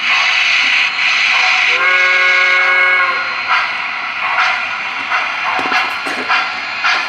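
An MTH PRR E6 Atlantic model steam train runs with steady synchronized chuffing, and a whistle sounds in sustained tones for a little over a second partway through, all close and fairly loud.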